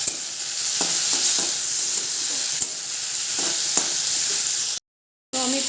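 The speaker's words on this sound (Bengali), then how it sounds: "এটাকে ভালো করে মিশিয়ে নেবো।" Bhujia fries in a pan as turmeric and salt are stirred in, giving a loud, steady sizzle with a few soft spatula knocks before a brief full silence and a return of the frying.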